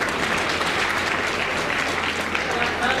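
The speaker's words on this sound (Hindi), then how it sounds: "जरा जोरदार तालियां" A crowd at a public ceremony where house keys are handed to beneficiaries claps loudly and steadily in sustained applause, with a voice heard over the clapping.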